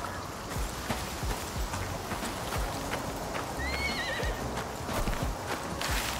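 Horses in the video game Icarus neigh with a clear whinny midway, amid continuous clip-clop of hooves and game ambience, moderately near.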